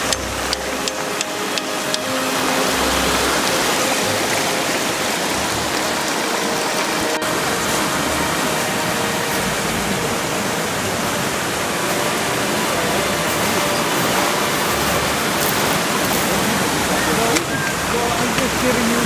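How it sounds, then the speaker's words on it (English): Heavy rain and a high, fast-flowing creek, loud and steady as a continuous broadband rush that swells after the first couple of seconds and holds without pause. "even though it's raining hard and the river is high"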